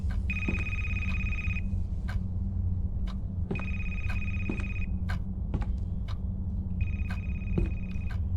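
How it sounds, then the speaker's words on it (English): A telephone rings somewhere in a haunted library in a video game, sounding in three separate bursts of bell-like trilling. Each burst lasts about a second, spaced a couple of seconds apart over a steady low ambient hum, with faint clicks in between. "Listen, the phone just gonna ring then."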